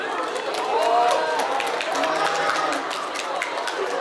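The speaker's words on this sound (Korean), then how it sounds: "아, 박수!" Fans applaud at the opening of a K-pop fan signing event at Gimpo Airport, a thick crowd clapping with chatter and some cheering mixed in, voices heard in the room.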